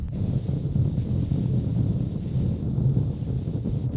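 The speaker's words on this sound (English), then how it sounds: "Let's not forget that it's quite windy today. I'm picking up some wind noise." Steady low rumble of wind on a windy day buffeting a moving Peugeot 3008 Hybrid 136hp, a broad continuous roar filling the cabin with no voices.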